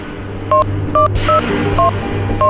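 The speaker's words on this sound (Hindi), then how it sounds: "तू ऐसा कर, उस नंबर पे डायल कर।" Telephone keypad tones beep out a number, six short, clear dual-tone presses at an uneven rhythm, close and loud over a low steady hum.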